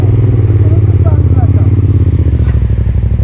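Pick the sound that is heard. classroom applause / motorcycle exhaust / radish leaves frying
motorcycle exhaust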